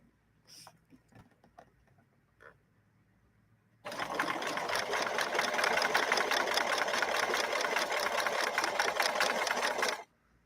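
A 1964 Montgomery Ward sewing machine stitches a pattern, starting after a few light clicks and running as a loud, steady, rapid mechanical whir and patter for about six seconds before it stops abruptly.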